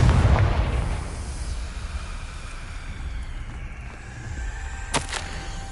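A Confringo fire spell bursts in Hogwarts Legacy, with a loud low rumbling blast at the start that fades into a lingering windy roar and a couple of brief bright crackles later.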